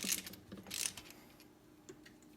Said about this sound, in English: Now I am going to put these bolts in.